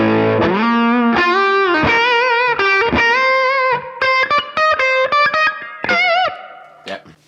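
Electric guitar played through a distortion amp model on a Valeton GP-5 multi-effects unit: a loud, saturated riff of sustained chords and bent notes, then choppy staccato stabs, ending with a fading ring.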